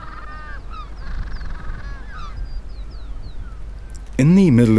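Magellanic-type penguins call at a crowded nesting colony in Patagonia, with several honking, braying cries near and far that swell into a loud close call at the end, under a narrating voice.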